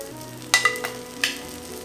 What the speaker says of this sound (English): once you hear it start sizzling, turn it down a little bit to like a medium high heat